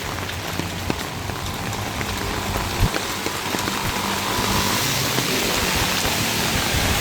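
Very heavy rain pouring during a thunderstorm in the Philippines, a dense steady hiss of water hitting surfaces with scattered sharper drops and a brief louder spatter, continuous and close with no voices.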